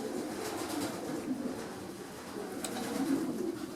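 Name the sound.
pigeons cooing in breeding loft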